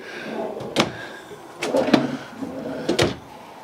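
Kitchen drawers in a 2019 Heartland Bighorn 3160 EL fifth-wheel RV slide and knock shut in three quick bursts, faint and close, with short rolling scrapes between the thumps.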